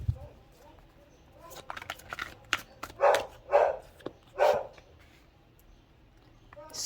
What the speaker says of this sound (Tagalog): Maingay na aso.